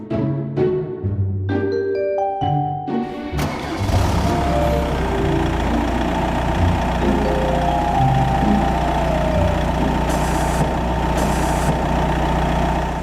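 Jungheinrich diesel forklift running steadily at idle with a low engine drone, hydraulic whine rising and falling as the forks lift and lower, preceded by a short burst of clanking mechanical tones at the start.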